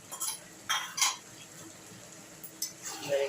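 A vegetable curry is stirred in a pan with a spoon, giving a few short scraping and clinking strokes over a faint sizzle, close and fairly quiet.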